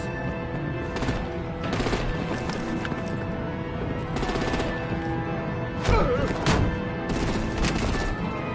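Rapid bursts of artillery gunfire and explosive impacts crash through a tense action sequence in the video game Batman: The Enemy Within, with repeated loud volleys over a dense, busy mix of battle noise.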